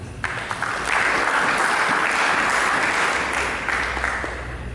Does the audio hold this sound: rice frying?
no